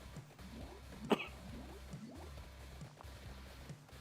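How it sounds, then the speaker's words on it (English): A single sharp cough rises out of low game music and background noise, close to the microphone and brief. "I instantly just start coughing"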